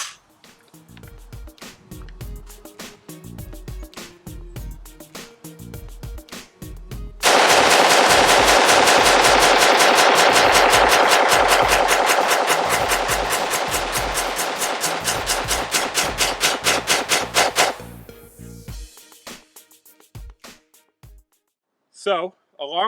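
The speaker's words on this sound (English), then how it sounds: "we're going to see if it can hold up to 60 rounds pretty fast here" A DPMS Oracle A3 AR-15 fed from a 60-round D60 drum magazine fires at an outdoor range. Loud single shots come first, then a long rapid string that slows toward the end. A voice is heard near the close.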